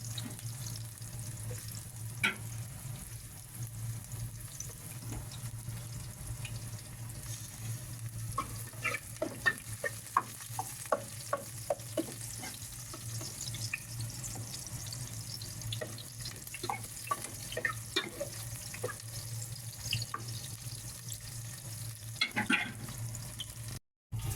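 Onions fry in a pan for a beef-trotter balbacua, a faint steady sizzle under scattered scraping stirs and light clinks from the spoon, with a low hum in the background and no talk.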